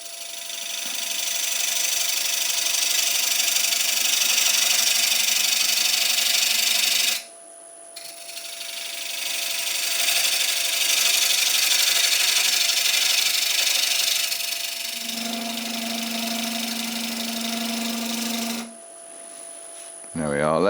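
A roughing gouge cutting wood on a lathe while turning a traditional German ring, a long steady rasping hiss over the lathe's hum, pausing briefly, then resuming with a tonal whine in later passes.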